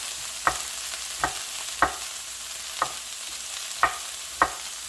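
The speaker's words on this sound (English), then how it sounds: "It cooks very fast. You can keep sauteing." Asparagus sautéing in a pan, stirred so it scrapes and taps against the metal about six times in a steady rhythm, each stroke short and crisp over a soft, continuous sizzle.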